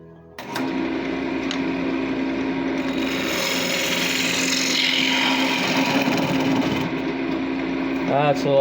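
A wood lathe starts up and runs steadily at close range while threads are chased in wood, a sustained whirring hum with rough scraping and cutting texture that swells in the middle, ending with a short clatter.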